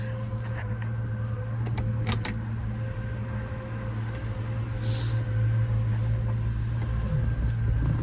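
A 1968 Pontiac GTO 400 four-speed convertible drives around the block, its engine a steady, continuous low rumble with road noise throughout, fairly close and unbroken, with no talking.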